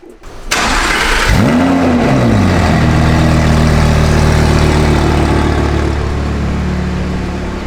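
Audi R8 V10 GT with an MTM Kompressor supercharger cranks and fires up loudly nearby, the revs flaring up and dropping back before it settles into a deep, steady idle.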